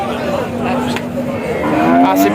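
A Holstein Friesian heifer at a busy cattle market lets out a loud, close, drawn-out moo lasting about two seconds, with crowd noise underneath.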